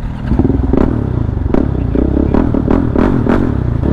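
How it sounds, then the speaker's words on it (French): A motorcycle engine starts and idles close by, a steady loud rumble with several sharp revving blips and some clatter, heard without talk. "Je rallume la moto"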